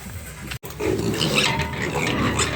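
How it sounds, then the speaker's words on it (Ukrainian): Piglets recently moved to a new pen grunt and squeal in a steady, busy clamor, close by, with one brief break near the start. "Зараз покажу поросят, тих, що ми пересадили."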